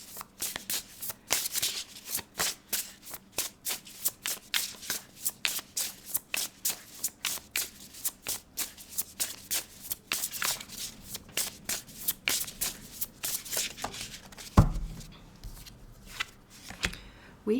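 Oracle cards are shuffled by hand in a rapid, steady riffle of crisp flicks that continues for most of the stretch, with a soft thud near the end.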